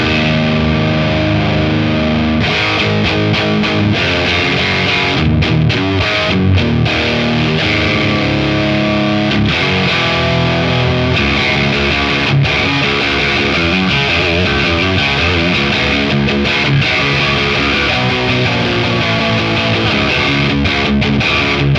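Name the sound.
electric guitar through Origin Effects Revival Drive Compact overdrive pedal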